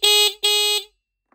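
Pidzoom FH60 finger-controlled horn gives two short, loud, bright electronic blasts in quick succession, each about a third of a second, close up with silence after.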